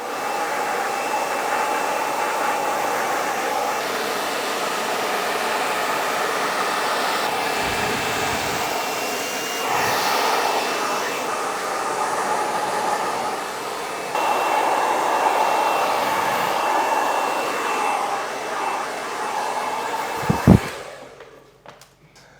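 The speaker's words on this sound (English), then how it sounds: "so just need a little bit of a blow dry lotion now, so to give myself a little bit more hold to work through, and then we will blow dry" A hair dryer blows steadily, loud and close, for over twenty seconds while hair is blow-dried, its whooshing pitch shifting slightly as the airflow is moved, before clicking off at the end.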